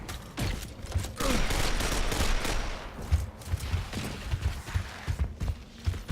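Rapid, dense shotgun blasts ring out in a video game firefight, a run of loud overlapping shots followed by scattered bursts.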